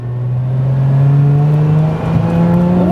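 Lotus Emira engine whining steadily from inside the moving car, a loud sustained drone that rises slightly in pitch near the end as the driver keeps pulling on the road.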